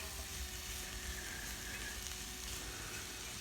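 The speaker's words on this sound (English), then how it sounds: "leave that to break down in the pan with the rest of the vegetables, giving it all a good stir" Vegetables sizzle steadily in a frying pan as they are stirred while cooking for bully beef and rice, a continuous soft hiss close by with no voices.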